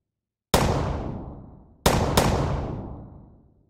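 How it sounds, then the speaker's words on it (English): Compressed gunshot sound effect built for a game, three sharp blasts, one alone and then a close pair, each with a long, booming decay that stays loud before fading. "we're going to chuck a bit of compression over the gunshot sound and level everything out"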